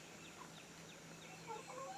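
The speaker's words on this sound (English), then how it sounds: "Chickens are all out running around." Soft, scattered clucks from a few chickens, fairly faint, over a steady low hum, with a couple of brighter calls near the end.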